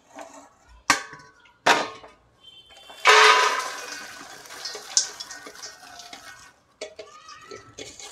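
Freshly popped popcorn is tipped from a pressure cooker into a vessel, giving separate bursts of rattling, pattering kernels, with one long loud pour in the middle and quieter clatters around it.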